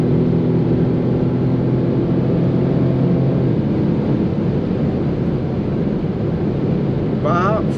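A steady, loud engine roar with heavy wind rush from a 2021 BMW M235i sedan running at speed on the German Autobahn, holding strong throughout; a faint voice may sit underneath.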